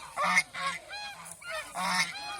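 Domestic geese give a run of loud, nasal honks close by, several calls in quick succession with short gaps between them.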